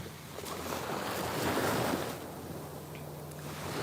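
Ocean waves and surf at Hutchinson Island, Florida, a soft continuous wash of breaking water rising and falling with some wind buffeting the microphone, no voices.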